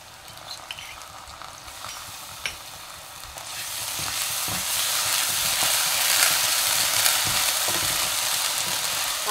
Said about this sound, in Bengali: আদা রসুন পেঁয়াজ সুন্দর করে একটু কষে নেব